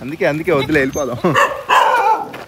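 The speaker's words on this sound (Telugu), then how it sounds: "కుక్కలు అరుస్తున్నాయా?" Dogs bark at a village house in Cambodia, a few short yaps and barks heard close and mixed with a person talking.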